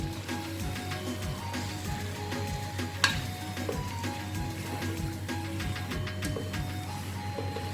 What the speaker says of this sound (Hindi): और कीमे को इस मसाले के साथ मैं अच्छी तरह से भून लूंगी।